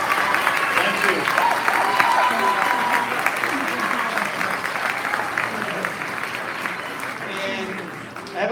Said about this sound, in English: So how about a wonderful applause for our ladies?